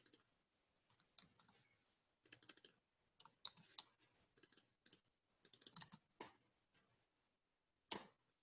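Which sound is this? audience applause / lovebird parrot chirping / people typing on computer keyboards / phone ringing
people typing on computer keyboards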